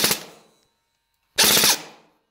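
A gel blaster gearbox on a maximum-FPS build grinds through two loud, harsh bursts during test fire, the second longer and denser, consistent with a gear stripping after the metal tappet plate bent.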